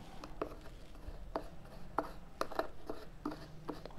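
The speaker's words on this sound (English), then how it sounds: "We have to stir it." A spatula stirs sodium hydroxide solution in a container, giving faint, irregular scraping taps and soft rubbing strokes at close range.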